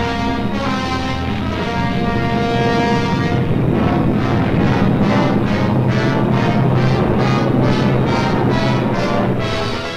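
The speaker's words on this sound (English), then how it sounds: "German bombers and Messerschmitt fighters roared over the English coast" Loud, pulsing drone of German bombers and Messerschmitt fighter propeller aircraft roaring close overhead over the English coast in the Battle of Britain, the throbbing beat growing stronger and more rhythmic as they pass.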